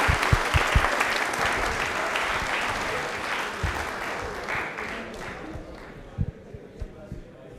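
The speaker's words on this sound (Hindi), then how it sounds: "ताले बजा दीजिए फिर जोरदार वाली।" Studio audience on a Rajasthani TV quiz show breaks into loud, sustained applause, a dense wash of clapping that swells briefly and then tapers off, with a few sharper individual claps near the end.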